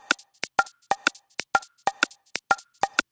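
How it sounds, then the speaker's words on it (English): Deep house percussion loop of a shaker and wood block, crisp clicky hits in a steady shuffled pattern, dry and close with no other sounds. "It's kind of just like a shaker and a wood block pattern."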